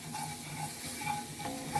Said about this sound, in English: Just want to keep stirring it.